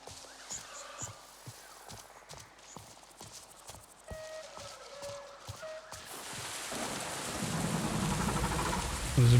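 Rain and a thunderstorm roll in within the video game Anarchy Online, starting with sparse rhythmic clopping steps and then building into a broad, steady wash of rain with rumbling thunder, growing louder toward the end with no talk.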